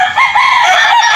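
Loud, close crow of a gamefowl rooster, a single drawn-out call lasting about a second that dominates alone without talk.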